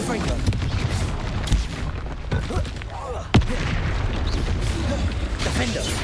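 Blasting-spell explosions in a Harry Potter video game, with a few deep booms and sharp bursts over dense rumbling game noise while a voice talks excitedly.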